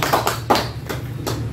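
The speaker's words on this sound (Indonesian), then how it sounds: "Kita kasih tepuk tangan untuk kita semua." Women at a health session on preventing child stunting clapping hands, a short burst of a few soft claps and taps in loose rhythm, close and without talk.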